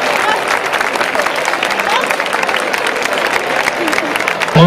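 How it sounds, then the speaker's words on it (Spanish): A crowd at the 2022 patron saint festival in Chinchón applauds loudly and steadily, a dense, continuous wash of clapping that fills the space, with voices mixed in. "vamos a escuchar fuerte el aplauso para él"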